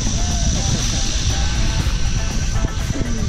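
A skydiving airplane's engine runs at a loud, steady roar with constant droning noise and wind, heard from close by inside or beside the aircraft.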